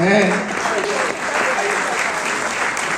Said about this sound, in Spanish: Un fuerte aplauso para el abuelo entonces